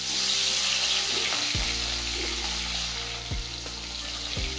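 Rohu fish pieces fry in hot oil in a pan, a steady close sizzle with a few low thuds as pieces go in or shift, no talking.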